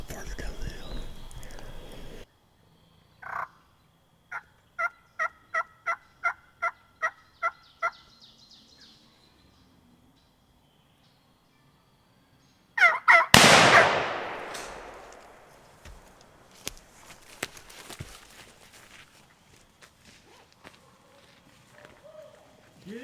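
A big wild Pennsylvania gobbler gives a quick run of rhythmic gobbles in quiet woodland, followed by a sudden loud blast and then rustling footsteps and soft movement.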